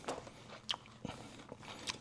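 Bites into a loaded oven doner kebab with mayonnaise, yogurt sauce, pickled onions and tomato, giving soft crunchy bites and chewing close up, quiet and with no talk.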